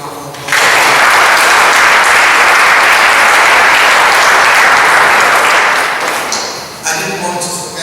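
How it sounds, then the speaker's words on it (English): Loud, dense audience applause for a speaker at a Securities and Exchange Commission event, starting suddenly and holding steady before tapering, with a brief voice near the close. "So please give him a big round of applause."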